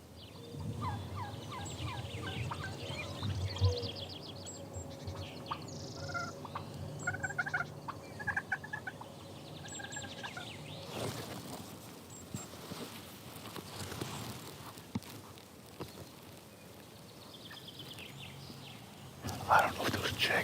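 Wild Merriam's turkeys gobble in rapid rattling bursts, several calls overlapping outdoors at a moderate distance during a hunt, with quiet rustling and faint murmured speech in the background.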